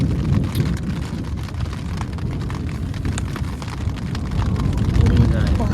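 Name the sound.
rain falling on a tent while camping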